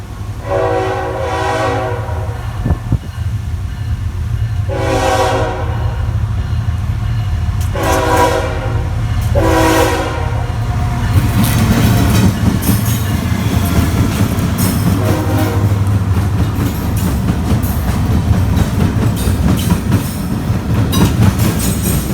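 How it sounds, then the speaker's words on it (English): A loud CSX freight train thunders over a railroad diamond crossing in Selma. Several long horn blasts ring out over a constant deep rumble, followed by rapid, steady clatter of wheels over the rails. "CSX just thunders past it"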